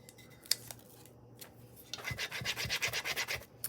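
A transfer being rubbed onto a clay pot with a tool, scattered scratchy strokes at first, then a quick run of rhythmic, close rasping rubs.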